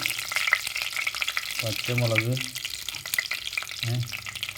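Round dried chillies and curry leaves fry in hot oil with mustard seeds for a kingfish curry, a close, continuous crackling sizzle with stirring, broken by a couple of short murmured voice sounds.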